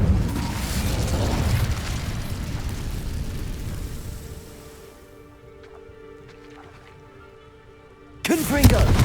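Incendio fire spell in Hogwarts Legacy: a loud, roaring whoosh of flame that slowly fades into a quiet tonal hum, then a sudden new burst erupts at the end.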